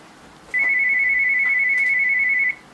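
A phone ringtone rings as a steady electronic tone lasting about two seconds, loud and close, sounding alone with no talk over it.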